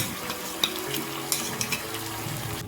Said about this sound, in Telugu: ఇప్పుడు ఈ పేస్ట్ అంతా ముక్కలు పట్టే విధంగా నూనెలో బాగా వేయించుకోవాలి